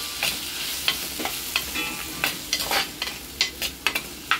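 Apple tomatoes salted in a hot pan sizzle steadily under repeated scraping stirs, a spatula clacking against the metal in irregular bursts close up, with no talking.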